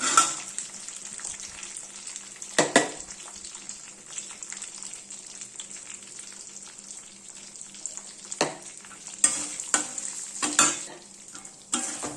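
Tempering of urad dal, chana dal, mustard, cumin, dried chilies and asafoetida fries in hot oil, a continuous close sizzle broken by sharp louder crackles and spoon scrapes, with no voices.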